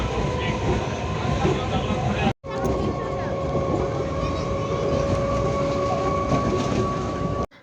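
A train rumbles steadily past at Naihati station, close and loud, with a continuous metallic hum and rattle that briefly cuts out before resuming.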